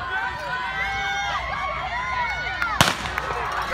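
A starting gun fires to begin a cross country race: one sharp, loud crack late in the clip, rising over steady crowd chatter and voices nearby.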